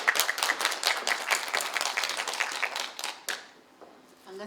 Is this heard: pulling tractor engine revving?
no